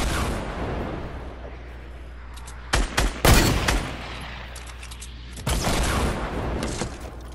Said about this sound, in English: those RPGs are them shooting the people above us